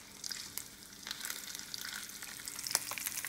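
A breaded chain pickerel fillet frying in a pan, giving a faint, steady crackling sizzle with scattered pops throughout, heard alone without voices.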